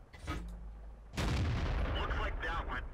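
A tier 10 tank gun fires in World of Tanks, a single heavy boom after a quieter lead-in, followed by a loud rumbling, echoing tail.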